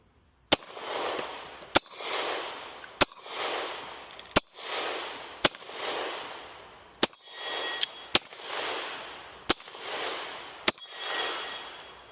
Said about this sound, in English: testing out Rossi's gun